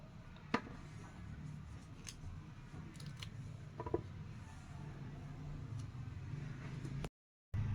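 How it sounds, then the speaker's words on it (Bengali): Phutu, a snap melon, being cut with a knife: a few sharp, isolated snips and clicks over a steady low background hum, with a brief dropout near the end. "এখন ফুটুটা কাটবো। কাটতেছি বন্ধুরা"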